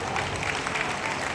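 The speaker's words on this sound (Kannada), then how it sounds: "ನೀನು ಚಪ್ಪಾಳೆ ತಡ್ತೀರ" A church audience clapping at a pastor's message in Bidar. The clapping is steady and crowded at moderate volume, with faint crowd murmur underneath.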